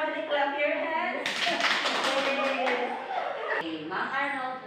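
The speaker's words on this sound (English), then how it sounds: "Everybody clap your hands." Classroom students clap their hands together in a burst of dense, overlapping claps lasting a couple of seconds, with children's voices audible before and after.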